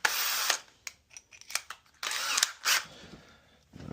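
A power drill bores a 1-inch hole for a fresh lock installation in a door, whining in several short bursts that start and stop, close and fairly loud with no talk.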